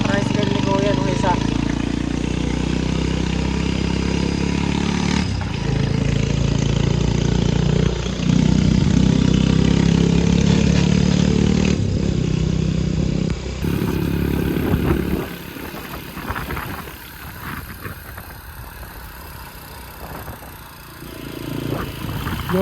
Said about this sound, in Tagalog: papastart ng tricycle ni Kuya nung isa